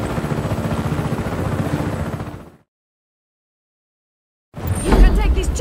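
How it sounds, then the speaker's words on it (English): Helicopter in the video game Just Cause 3, a dense rotor-and-engine roar with battle noise, cutting to silence for two seconds before returning loud. "You can take this chopper"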